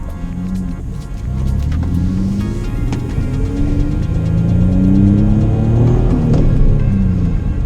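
A drift car's engine rumbles and throbs up close as it is driven, with uneven revving and rising and falling pitch, loud and continuous from start to finish.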